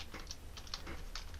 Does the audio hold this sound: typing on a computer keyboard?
yes